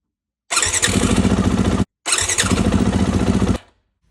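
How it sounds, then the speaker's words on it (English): Two loud bursts of a new starter motor spinning on a 2017 Yamaha WR450F motorcycle, a whirring, squealing crank of about a second and a half each, separated by a brief pause, close up with no talking. "New starter motor."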